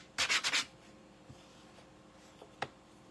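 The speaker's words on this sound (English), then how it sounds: "I'm just sanding this down smooth" A few quick strokes sanding wood up close, a short burst of rasping friction followed by faint scattered scrapes and a single sharp tap.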